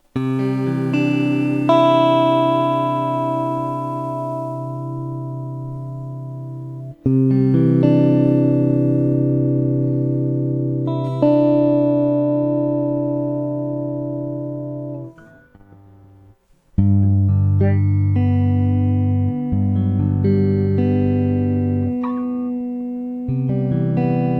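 Sustained electronic keyboard chords through a Chase Bliss Audio Warped Vinyl HiFi pedal, with a wobbly, pitch-warped, slightly distorted, staticky tone, held in long swells separated by brief drops.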